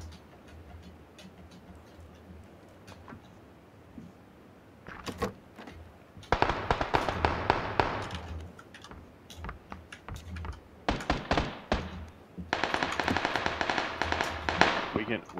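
Gunshots in the battle royale game PUBG sound as sharp cracks and clustered bursts of fire, moderately loud and near, mixed with keyboard clicking throughout.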